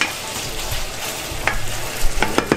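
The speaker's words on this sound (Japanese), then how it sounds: "これグツグツいってる" Pot of pasta water at a rolling boil in a home kitchen, a steady simmering hiss with soft bubbling and a few sharper pops and clinks near the end, close and alone with no talk.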